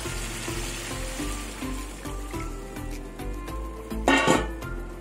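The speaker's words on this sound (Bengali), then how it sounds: "এবার আমি জল দিয়ে দেবো।" Water poured into a hot pan of rohu fish curry with taro and potato, a steady frying hiss joined near the end by a brief, louder burst of splashing sizzle, close with no talking.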